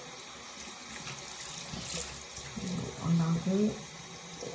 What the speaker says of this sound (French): Alors l'eau froide.